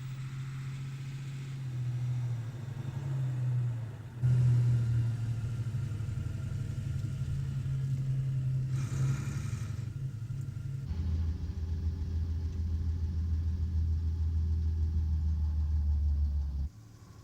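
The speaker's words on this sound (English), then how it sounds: "A second Vorn lorry drives up to park alongside the first." A German wartime military lorry rumbles as it drives up, its engine loud and close. The note shifts, then settles into a steady, low idle that holds for several seconds before cutting off.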